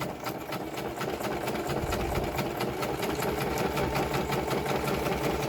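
A sewing machine stitches steadily through paper ephemera cut from a masterboard, its rapid needle rhythm running loud and continuous from start to finish.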